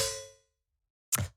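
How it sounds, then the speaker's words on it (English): A metallic snare hit in a glitchy electronic style, made with FM synthesis: one sharp, bright clang with a short ringing body that cuts off quickly. It follows the fading tail of an earlier tone and a moment of silence. "this is the final snare"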